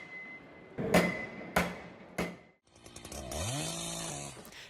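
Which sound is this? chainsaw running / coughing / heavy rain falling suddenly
chainsaw running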